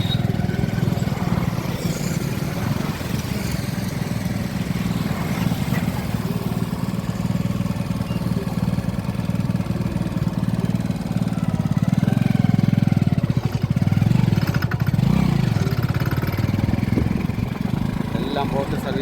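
A boat-service motor running near a resort area by a bridge, a continuous chugging engine drone that grows louder toward the latter half, with a voice talking over it.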